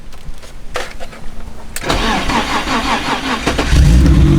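A BMW E30 with no muffler hot-starts: a brief crank catches and the engine bursts into a loud, raw idle that rises into revving near the end, with faint talk beforehand.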